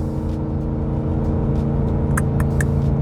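A Ford F150 with the 5L Coyote V8 tows uphill in 6th gear at about 3,500 RPM, a steady loud low engine drone with a constant road and cabin hum and a few faint clicks, no speech.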